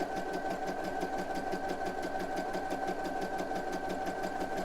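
A sewing machine runs a zigzag stitch through knit fabric for boxer briefs, a continuous, rapid, even mechanical whir with a rhythmic needle beat, close and steady throughout.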